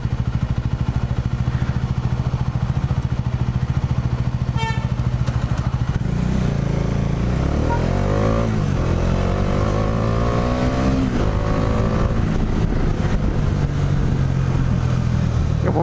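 A Bajaj Dominar 400 motorcycle on a test ride revs and accelerates through its gears, the engine note rising repeatedly under steady wind rush, loud and close.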